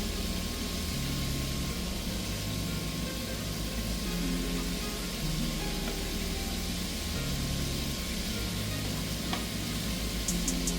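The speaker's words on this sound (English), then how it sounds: "that everything is frying properly" Steady sizzling of chicken wings frying submerged in hot oil, a continuous crackling hiss with no voices.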